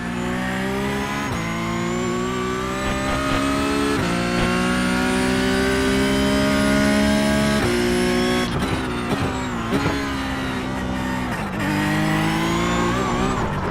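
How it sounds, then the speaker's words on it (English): A Porsche Cup car races around Bathurst in the iRacing sim, its engine howling loud and continuous, pitch rising through each gear then dropping sharply at upshifts and braking, with brief bursts of rougher noise, no talk. "enjoy the sound of a Porsche Cup car at Bathurst."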